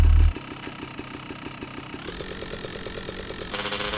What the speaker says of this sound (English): Motorbike.